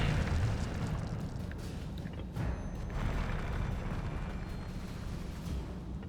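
A fire spell cast in the Hogwarts Legacy video game roars as a sustained, dense rumbling burst that holds steady at a loud level for several seconds.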